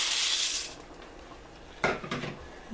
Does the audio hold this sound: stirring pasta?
yes